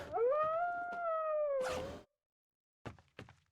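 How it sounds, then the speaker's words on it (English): Zombie dog in a survival video game set in an island town, giving a long, loud, wavering howl-like cry that falls off into a harsh snarl, then a few short thuds after a pause. "Zombie dog."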